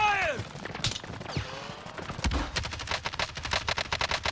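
Bursts of video game gunfire crackle as rapid sharp cracks, thickening into a dense volley in the second half, with a voice briefly heard near the start.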